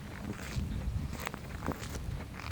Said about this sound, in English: Each step produces a quiet crunch.